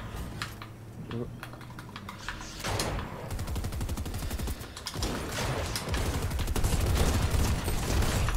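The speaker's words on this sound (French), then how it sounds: "Ça tire." Gunfire in the video game Fortnite, rapid bursts of shots mixed with loud keyboard clatter and mouse clicks, the shooting growing denser and louder toward the end.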